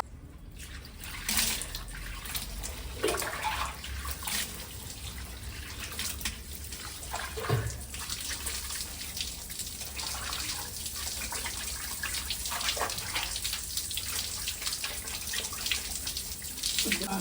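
Water poured and splashing for a bath in a cold misty season, a continuous running and splashing sound with uneven bursts throughout, fairly quiet and without talk.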